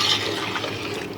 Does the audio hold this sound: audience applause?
no